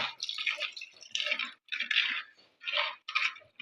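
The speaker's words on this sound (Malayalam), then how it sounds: "ഇനി ഇതിലേക്ക് നമ്മുടെ പുളിവെള്ളം കൂടെ ഒഴിച്ചു കൊടുക്കുക പുളി വെള്ളമാണ്" Tamarind water is poured into a curry pan, sounding as several close bursts of splashing, bubbling sizzle separated by short pauses.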